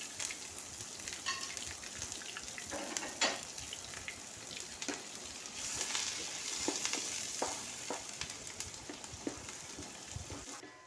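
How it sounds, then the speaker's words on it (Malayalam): Finely chopped onions sauté in olive oil for an Arabic hashwah rice dish, a continuous soft hiss of frying with occasional stirring scrapes, fairly quiet and steady throughout, no voices. "4 വലിയ ഉള്ളി ചെറുതാക്കി അരിഞ്ഞതിട്ട് വഴറ്റണം."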